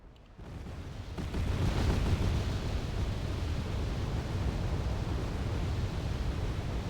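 BM-21 rocket artillery firing in Wargame: Red Dragon: a broad, rumbling roar rises after a quiet half-second and holds steady, loud and continuous, like a sustained rocket volley with no talk.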